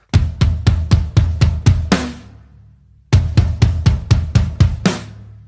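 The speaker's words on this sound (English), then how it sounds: "you're able to play 8 notes to match that tom build." Close, loud drum kit tom build from a rock song: a run of eight rapid even hits ending on a crash with bass drum and snare, a short pause, then the same fill repeated.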